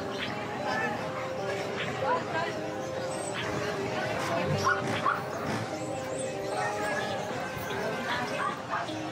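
Many dogs, Chihuahuas among them, bark and yip continuously in a crowded pet shop, overlapping yaps and whimpers near and far with background chatter throughout.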